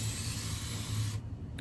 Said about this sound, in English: this is a continuous spray water bottle